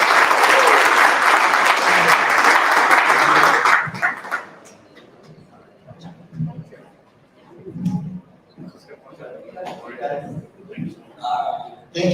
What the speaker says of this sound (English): Another round of applause for her.